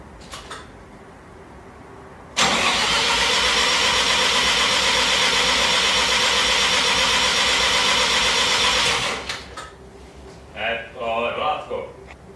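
A Mazda RX-7 FD engine revs hard under steady throttle for roughly six seconds, loud and close, then drops back toward idle while voices talk briefly near the end.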